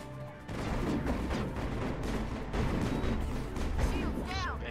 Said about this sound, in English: Just threw a grenade on accident again.